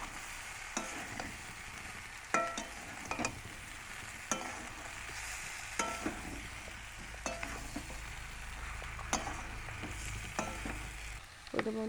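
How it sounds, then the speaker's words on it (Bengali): Boiled potatoes go into frying spices and are stirred, leaving a low, quiet sizzle under recurring clacks and scrapes of a spoon against the pan. "এবার দিয়ে দিচ্ছি আলুটা, সিদ্ধ করা আলুটা দিয়ে এটার সাথে একটু নাড়িয়ে নেব"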